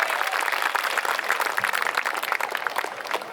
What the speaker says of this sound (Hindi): एक बार जोरदार तालियों से सुदीप भोला का स्वागत करिए